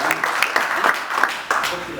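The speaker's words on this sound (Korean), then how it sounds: "박수 한번 치겠습니다." An audience claps steadily throughout, a dense patter of many hands with a voice faintly audible under the applause.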